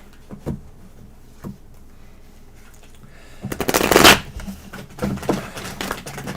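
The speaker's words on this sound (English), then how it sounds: "I'm going to do 2 more shuffles because of that." A slippery tarot deck is shuffled by hand: a few soft riffles early on, then a loud, dense burst of card flutter, followed by several shorter shuffling rustles, close and alone.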